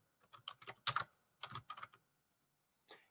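Keys clatter on a computer keyboard while data is entered into an Excel spreadsheet, with quick bursts of clicks and short pauses between them.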